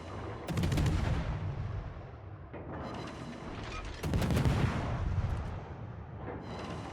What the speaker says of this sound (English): That's Azara shooting us.